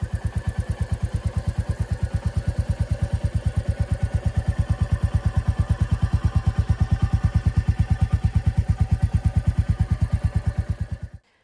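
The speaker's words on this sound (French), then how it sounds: "j'ai trouvé ça vraiment sympa et les bruits de pots d'échappement" Royal Enfield Goan Classic 350 motorcycle idling nearby, a loud, steady single-cylinder exhaust thump with an even rapid pulse that runs throughout, then cuts off abruptly at the end.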